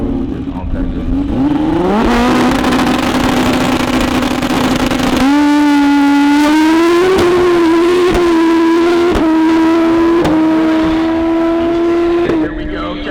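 Drag racing cars launching down a track at a heads-up event, a loud roaring engine climbing in pitch through several sharp gear shifts, close and sustained, with a voice talking over it.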